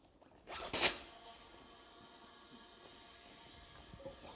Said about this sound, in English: So we're gonna grab our air chuck here, fill up the tire, see what happens.